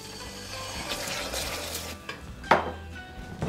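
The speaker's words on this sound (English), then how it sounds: "So now I'm gonna add the 1 tablespoon of vanilla" Vanilla going into caramel sauce cooking in a pot, with clinking and stirring of a utensil against the pan, a sharper knock midway, all close and fairly quiet.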